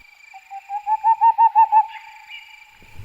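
An owl hoots in a clear series of rising, pulsing calls that swell and fade, alone against silence, with a low thump at the very end.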